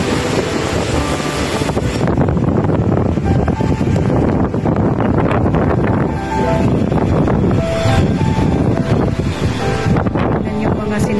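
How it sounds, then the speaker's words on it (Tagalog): Strong typhoon wind under Signal No. 8 roars past a ninth-floor laundry area outside a Hong Kong apartment building, a loud, continuous rushing buffet with gusty surges and heavy microphone rumble, and a person speaks briefly over it. "Kikita nyo ang lakas ng hangin."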